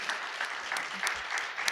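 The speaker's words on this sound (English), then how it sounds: "A round of applause for our panelists." A brief burst of audience applause for panelists at a SXSW panel, steady, moderately loud clapping from the room.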